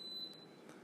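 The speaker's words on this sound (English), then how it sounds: "And it's going to beep here in a couple seconds." An Instant Pot pressure cooker gives a single short electronic beep after its rice button is pressed, faint and thin in a quiet kitchen with no voices.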